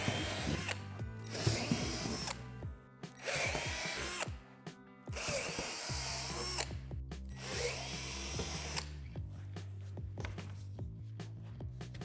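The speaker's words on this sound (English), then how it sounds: "drill out the 12 divots with a 3/8 drill bit going from the top" A power drill with a 3/8 bit bores holes through a swing set deck panel from the top down, giving several loud whirring bursts of a few seconds each, separated by short pauses and followed by quieter mechanical clicks.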